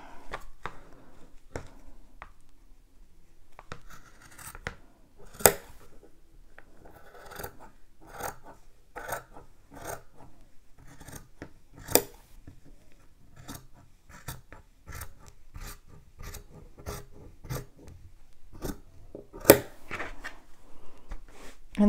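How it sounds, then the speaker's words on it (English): Scissors trimming the fabric of a machine-embroidered Christmas treat bag, a long steady series of crisp snips at an even rhythm, close and clear with no talking. "Let's trim a little bit here."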